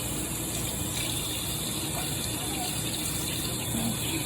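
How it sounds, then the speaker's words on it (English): Kitchen tap water runs in a steady, unbroken gush during hand washing after sticky cooking work, close and continuous with no talk over it. "I'm just gonna wash my hands, they're a little sticky."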